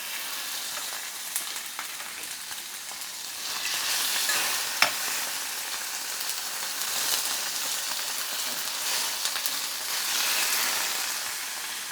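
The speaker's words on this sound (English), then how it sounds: "Now you hear the sizzle? Sizzles are good." Fish fillets sizzle steadily in a preheated Teflon pan for fish tacos, a continuous bright frying hiss with a few sharp crackles and pops, close and fairly loud with no talking.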